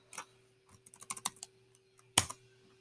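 A document name is typed on a computer keyboard in short, irregular clusters of close, crisp keystrokes, ending with one louder clack, in an otherwise quiet room.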